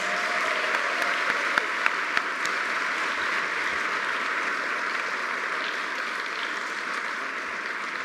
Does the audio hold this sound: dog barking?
no